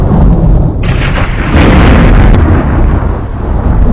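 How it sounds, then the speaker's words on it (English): Supernova explosion sound effect: a loud, sustained, roaring boom with a deep rumble that swells at about a second and a half and stays dense and heavy to the end, with no voices. "Supernova explosion."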